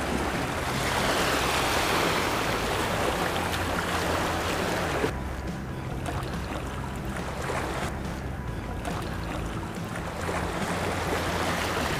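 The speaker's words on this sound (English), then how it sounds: "It's the ocean." Steady surf washing against the shore at Middle Harbor Shoreline Park in Oakland, a continuous broadband rush with wind, loud and constant with no pauses.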